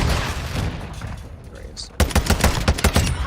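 Gunfire in Call of Duty: Modern Warfare 2 multiplayer: a muffled stretch gives way to a loud, close burst of rapid automatic shots in a rhythmic string.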